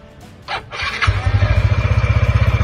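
A motorcycle engine cranks briefly and catches, then settles into a loud, close, steady idle with an even pulsing throb.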